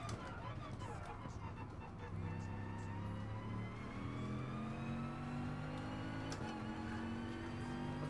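A car engine in the racing game Gran Turismo Sport howls under hard acceleration, its pitch climbing through the gears with short dips at each shift, loud and continuous.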